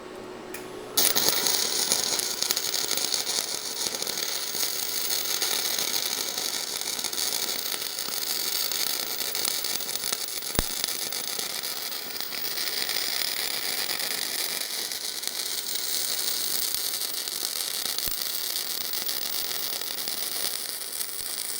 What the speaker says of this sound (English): let's put some more weld in it.